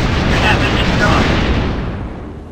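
A player's starfighter explodes in the space combat game X-Wing Alliance with a loud, dense, rumbling blast that roars steadily and then fades out over about two seconds.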